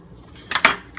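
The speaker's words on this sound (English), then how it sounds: "I need to stir this" A spoon stirs Carolina Reaper pepper jelly in a pot, giving two or three quick metallic clinks and scrapes against the pot's side over a faint quiet background.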